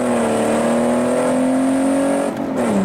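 A 2003 Mitsubishi Eclipse GT accelerating hard, its engine note climbing steadily in pitch, loud and close, then dropping briefly as the gear changes near the end.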